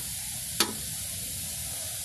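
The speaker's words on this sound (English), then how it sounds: "So we will start to saute the beef." Beef sautés in a mix of oil and butter, giving a constant, even sizzling hiss close by, broken once by a single short clink of a utensil.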